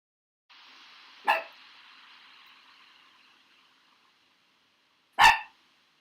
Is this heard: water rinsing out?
no